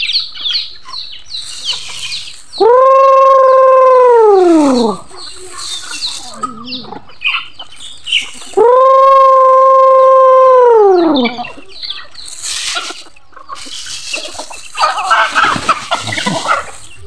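Pet chickens and roosters at feeding time let out two long, loud harmonic calls, crowing or gobble-like, over scattered clucking and flapping, with a little speech in between.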